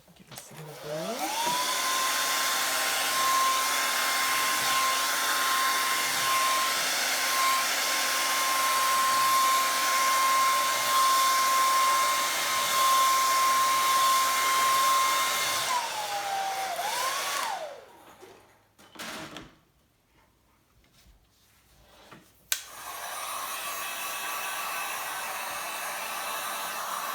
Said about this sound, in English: just gonna use the heat gun to help me out. So give this a little blow.